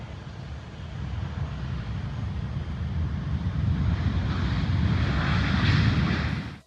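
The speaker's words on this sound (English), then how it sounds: "Landing on runway 18 left is the aircraft about to commence today's inaugural flight, which today is an Airbus A320-200" An Airbus A320-200 landing on runway 18 left at Hamilton, New Zealand, its engine roar building steadily over several seconds from moderate to loud, with broadband wind rush on the microphone and no speech.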